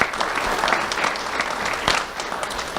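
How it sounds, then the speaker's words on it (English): Audience applause at a community awards ceremony, steady dense clapping throughout at a moderately loud level, with no talk over it. "let's have a round of applause for everyone behind the scenes today."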